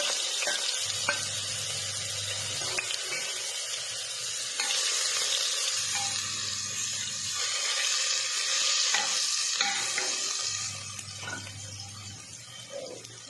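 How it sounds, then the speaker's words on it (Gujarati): Crushed garlic, ginger and green chili fry in a hot tempering of mustard seeds, carom seeds and asafoetida for a radish dish. The sizzle stays bright and continuous with occasional stirring clinks over a low, intermittent hum. "લસણ અને આદુ જે સહેજે સંતળાઈ જાય"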